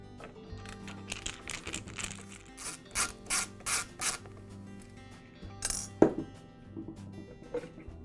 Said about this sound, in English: Next, remove the mixer cover. It's held in place with 4 screws.